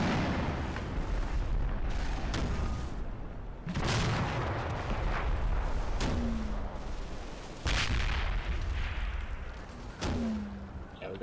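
Repeated heavy artillery fire in a video game, booming shots several seconds apart with long rumbling tails, loud and continuous with no talk.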